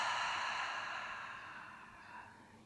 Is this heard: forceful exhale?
yes